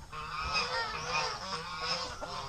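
A turkey calling on a small farm, repeated honking gobbles in quick succession, fairly close and clear over a steady background of other farmyard noise.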